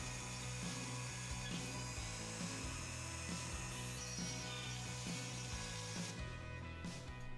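A small drill bores a 1.5mm pilot hole into the post of a Matchbox '56 Ford pickup toy, giving a steady, loud mechanical whir with a rhythmic chattering pulse and no talking.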